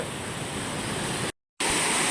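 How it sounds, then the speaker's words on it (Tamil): A waterfall roars as a steady, dense broadband rush close by, loud and continuous apart from a brief dropout, with no voices. "நான் பார்த்ததுலே பெஸ்ட்டு ஃபால்ஸுங்க இது"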